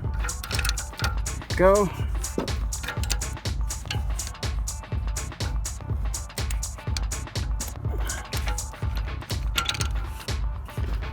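Ratchet tightening an oxygen sensor back into a 2010 Dodge Caliber, a long run of quick, regular clicking strokes close by, with someone speaking briefly partway through.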